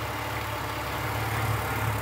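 A 2001 Australian Ford Falcon ute's 4.1 straight-six engine idles with a steady, even low hum and faint mechanical rattle, close and unbroken with no talking.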